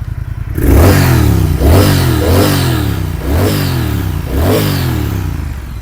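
A 2019 Triumph Thruxton R 1200 motorcycle with low mileage and a 1200 cc engine, revved four times in a row at close range. Each loud rise in pitch drops back to a throbbing idle.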